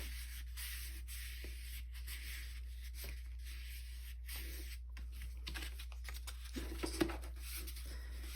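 A folded paper craft piece from a clockwork-themed kit is burnished by hand, a soft rubbing and scraping in short strokes over a low steady hum, with a few light taps near the end.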